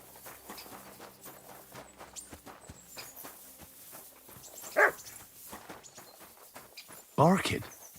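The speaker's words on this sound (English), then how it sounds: "Barking." A dog barks twice in the medieval game Kingdom Come: Deliverance II, two sharp, loud barks a few seconds apart over a background of footsteps and talk.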